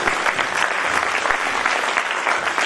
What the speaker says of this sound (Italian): Quindi vi chiedo un applauso al presidente di Avani, Silvio Mingrino.